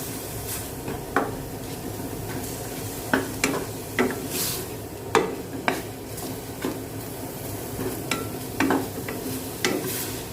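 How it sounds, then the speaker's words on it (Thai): Pork stir-fries with red curry paste and shrimp paste for a Thai pumpkin curry. A low sizzle runs beneath repeated, irregular spatula scrapes and clinks against the pan, close up and without speech. "ก็จะผัดพริกแกงหมูกะปิผัด ให้เข้ากัน"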